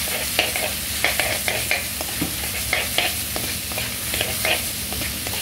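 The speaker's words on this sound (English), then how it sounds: "and I stir." A chicken, chilli and basil stir-fry being stirred in a hot pan: a constant loud sizzle broken by regular scraping strokes of the utensil, close up and with no speech.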